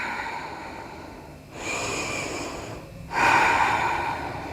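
Deep yoga breathing, close and clear: a long airy inhale followed after a brief pause by a stronger, rushing exhale, set against a faint steady background hiss.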